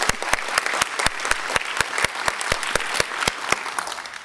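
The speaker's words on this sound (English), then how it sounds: "So firstly, a round of applause for Mr. Sam Lucas." Applause from the audience at the closing of a conference session on travel document facilitation and identification, steady clapping with sharp individual claps standing out, filling the room without speech.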